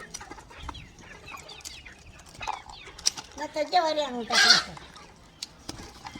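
Chickens and chicks squawk and cluck close by in a noisy burst while feeding on rice, with scattered pecking and rustling between calls.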